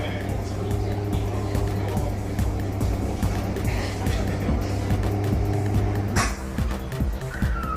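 A time attack car lapping Suzuka circuit, a steady engine drone with a low humming tone throughout, heard from moderate distance, briefly joined by a higher whine near the end.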